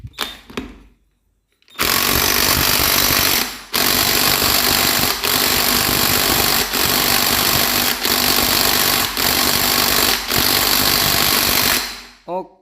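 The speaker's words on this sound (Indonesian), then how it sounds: "Kita kencengke bautnya." An impact power tool rattles in long, loud bursts, tightening bolts during clutch work on a motorcycle, with short pauses between runs after a quiet start.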